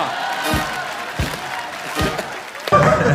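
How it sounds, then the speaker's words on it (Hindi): A few people clap at a 1000-subscriber celebration party, a steady wash of hands with a handful of louder thumps and a brief burst of noise toward the end. "बाकी बाकी के सब्सक्राइबर वहां से तालियां बजा रहे हैं"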